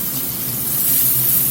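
A rib-eye steak hits a hot skillet and sears with a loud, steady hiss and crackle that holds and grows slightly stronger over a short stretch, with no voices.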